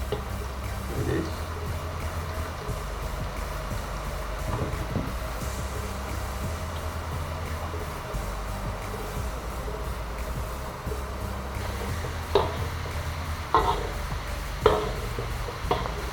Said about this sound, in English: We fry into the oil.